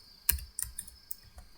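A few sharp, close keystrokes on a computer keyboard, spaced irregularly with brief pauses between taps, heard alone without talk.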